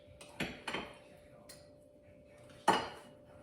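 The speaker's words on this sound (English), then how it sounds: "I'm gonna cut this live right in front of you. I have not cut into this steak" Knife cutting a cooked steak on a plate: sharp metallic clinks and scrapes of cutlery against the dish, a few separate hits spaced across a quiet room with a faint steady hum.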